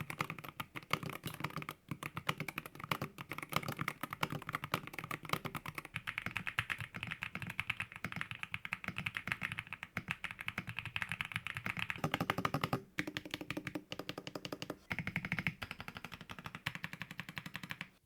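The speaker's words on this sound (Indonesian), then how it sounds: "untuk suaranya cukup oke walaupun nggak bisa dibandingin sama suara mechanical keyboard karena memang beda desain switchnya" Rapid typing on an IQUNIX EZ60 aluminum rapid trigger gaming keyboard with dampened switches gives a fast, continuous stream of soft, close key clicks, with occasional brief pauses.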